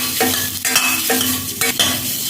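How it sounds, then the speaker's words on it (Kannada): Egg masala for egg gravy is stirred and mixed in a pan, with about four quick scraping strokes against a soft background sizzle, close and clear, with no talking. "ಹೀಗೆ ಒಳ್ಳೆ ಮಿಕ್ಸ್ ಮಾಡಿಕೊಳ್ಳಿ"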